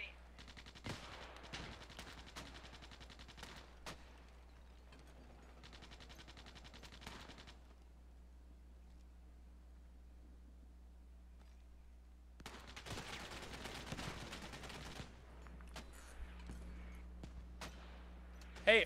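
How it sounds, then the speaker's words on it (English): Mortar fire in the video game Squad: sharp bursts of booming shots in clusters separated by quiet gaps, with faint voices between. "Snow Ward, shift those mortars left, 2 degrees. And then fire"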